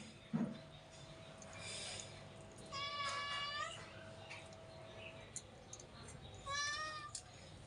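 A pet cat named Mini meowing as it comes for fresh pabda fish, two short meows a few seconds apart, faint against quiet room noise and light clatter.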